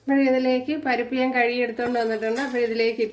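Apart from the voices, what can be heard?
None of the usual background noises is heard.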